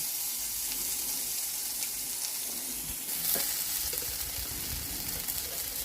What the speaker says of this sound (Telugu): అల్లం వెల్లుల్లి పేస్ట్ వేగింది